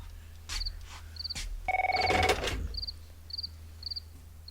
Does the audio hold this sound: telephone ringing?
yes